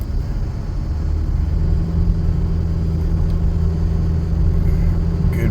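A small car named the little Yodi pulls away on a road trip toward Toronto, its steady low engine rumble and road noise holding at an even level throughout, close and unbroken, with no one talking.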